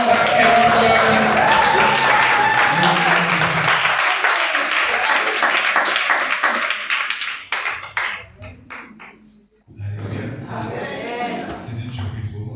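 Applause and cheering from an audience at a youth praise and worship evening, loud and dense at first, thinning out into scattered claps, then swelling again briefly near the end.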